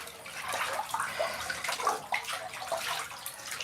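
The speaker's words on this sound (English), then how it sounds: "I'm just washing up" Running water splashes in a sink while someone washes up, a soft uneven stream with small splashes and drips, close but fairly quiet, with no voices.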